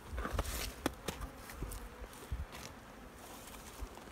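Honeybees buzzing faintly around wrapped beehives outdoors on a fine late-season day, a low steady insect hum with scattered soft clicks and rustles, no talking.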